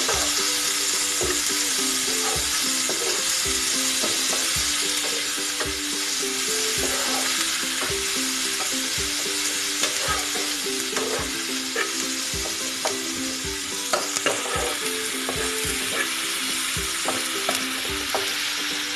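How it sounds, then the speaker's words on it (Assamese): Cabbage and tomatoes frying together in a pan for a potato chop recipe, a steady close sizzle with repeated scraping and stirring strokes throughout, no voices over it. "বন্ধাকবি আৰু বিলাহী দুইখিনি মই একেলগে ভাজি ল'ম।"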